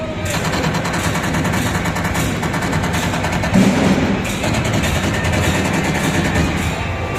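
Gunfire from a VR shooting arcade game at an entertainment venue rattles on continuously in a loud, dense stream, mixed with crowd and machine noise.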